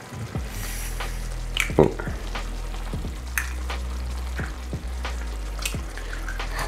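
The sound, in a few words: eggs added to sizzling sausage shakshuka sauce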